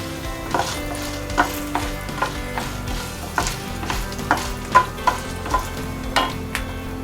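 Ingredients for a spicy chutney frying in a pan, a steady close sizzle punctuated by regular clinks and scrapes of stirring, fairly loud with no voice over it.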